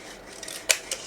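Two quick, crisp snips of old scissors cutting through stiff card, close by and fairly quiet.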